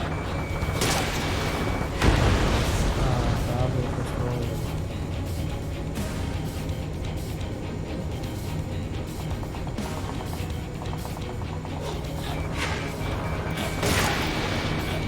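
Explosions as an AA gun is destroyed in Ace Combat 7: Skies Unknown, a dense, continuous roar of blasts and crashing with a sharp bang early on and a constant rumble beneath.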